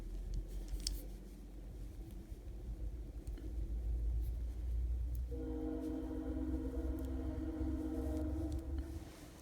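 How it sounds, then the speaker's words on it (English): A Via passenger train passes at a distance, a low rumble and clatter that builds and carries on steadily, quiet and unobtrusive, with no talking. "That is the Via passenger train."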